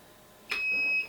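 A single high-pitched electronic beep from a DJI Inspire drone controller begins abruptly and holds for about half a second against a quiet background.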